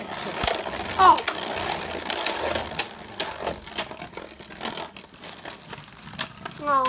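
Beyblade spinning tops launched into a stadium and battling, with sharp repeated clacks of tops colliding and scraping close by, while people react aloud over the clatter.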